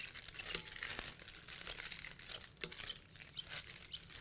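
A plastic piping bag crinkles and rustles close by in quick, irregular bursts while doughnuts are being made, with no voices.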